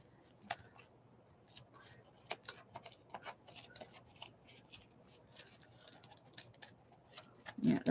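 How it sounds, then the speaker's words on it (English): Dull scissors snip through glossy magazine pages in a series of short, sharp, irregular cuts over faint rustling paper, close and fairly quiet, with no talking. "I know, this is my dullest pair of scissors."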